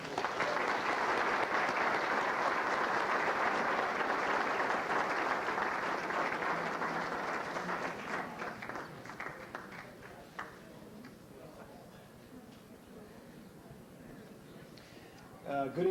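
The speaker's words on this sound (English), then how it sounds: "Please give a round of applause to Tim Jensen." An audience in a hall claps loudly and steadily at an athletic hall of fame ceremony, the dense applause thinning and fading over several seconds into scattered claps and quiet room noise.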